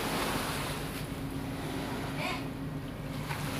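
Sea waves wash steadily onto a beach at Tablon, a continuous broad roar of surf with wind buffeting the microphone, loud and close throughout.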